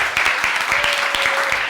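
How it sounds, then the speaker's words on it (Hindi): Brief burst of audience applause from students at a school year-end event, steady clapping throughout with a faint tone in the background. "तालियां बजाओ"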